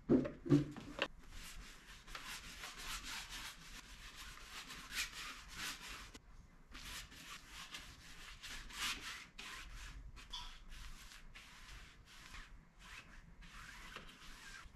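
Gesso being brushed over a painting sketch: close, soft, continuous scratchy rubbing in quick repeated strokes, quiet throughout with a brief louder knock at the start.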